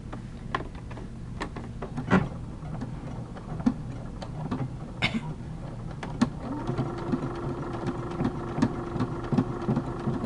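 A sewing machine stitching fabric through a binder foot, with a fast, even mechanical clatter of the needle joined by sharper ticks and clicks, close and moderately loud, running steadily with no talk.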